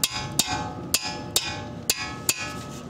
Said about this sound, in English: Good solid 3-4 pound hammer, big help.